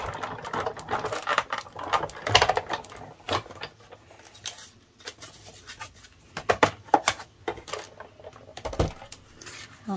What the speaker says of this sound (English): I'm going to run this one through my die cut machine right here.